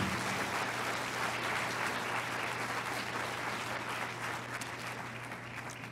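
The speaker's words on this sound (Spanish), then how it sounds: "Dele otro aplauso al Señor." Church congregation applauding during a Spanish-language sermon: steady, dense clapping that fills the whole stretch at even strength and fades slightly at the end, with no voices over it.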